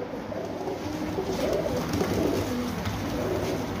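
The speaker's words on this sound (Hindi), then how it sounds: "गोल्डन और टैडी कबूतर डबल है" Golden and teddy pigeons coo steadily in a loft, low soft throaty calls repeating close by with no talk over them.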